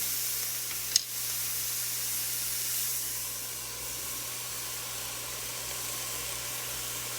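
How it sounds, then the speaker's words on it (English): A quarter cup of water hissing and steaming on hashbrown potatoes in a pan under a loose-fitting lid, a steady broadband hiss after a brief clatter near the start, continuing evenly without voices. "I'm going to add about a quarter cup of water. You could also use broth. And then I'm going to cover the potatoes."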